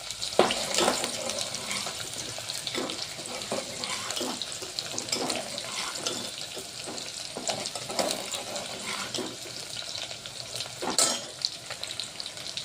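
Onions fry in a pan for shev bhaji, a continuous broadband sizzle broken by repeated bursts of stirring and scraping, fairly loud and close throughout.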